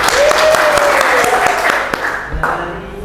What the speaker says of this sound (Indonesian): Kita beri aplaus untuk Pak Hia.